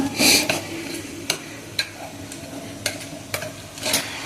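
Cooked spinach and lentil dal being mashed and stirred in a pot with tamarind, giving soft wet squelches and several sharp scrapes of a utensil against the pot, close and quiet with no talking.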